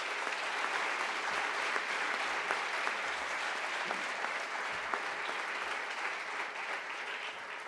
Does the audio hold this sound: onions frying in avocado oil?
no